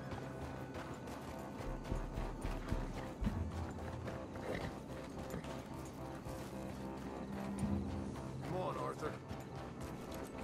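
Hooves of a horse clip-clop at a walking pace under ongoing talk, with steady outdoor background noise throughout.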